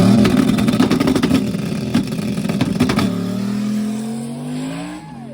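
Stick-shift race car on a quarter-mile drag run, its engine roaring loudly through rapid revs and gear changes, then easing into a smoother, fading drone as it moves away.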